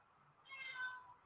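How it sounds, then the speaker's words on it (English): A single soft cat meow, faint and somewhat distant, rises and falls over about half a second with no one talking over it. "That's a cat."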